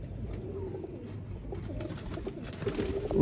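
Flying pigeons coo softly in low, rolling murmurs over a dull background hum, a little distant and without talk.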